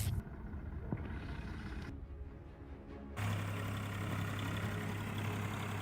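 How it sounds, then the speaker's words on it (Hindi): A tractor driven around a green field gives a steady, low engine drone that dips briefly, then returns louder and more constant with a sustained low hum, with no talk. "ये देखिए कैसे ये बच्चा इस ट्रैक्टर को खेत के चारों ओर घुमा रहा है।"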